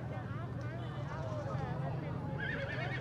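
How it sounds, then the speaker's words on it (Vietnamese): Horses at a Lunar New Year village market neigh and whinny several times over a busy background with hoof clatter, while someone talks through most of it. "chủ đề chính của chúng ta ngày hôm nay là mấy con ngựa này"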